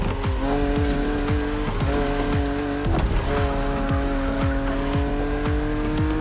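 Engine of a BMW Z4 E89 coupe cabriolet driven in The Crew Motorfest racing game, loud and continuous, with a steady high engine tone, repeated gear-shift drops, and tire squeal layered over the drone.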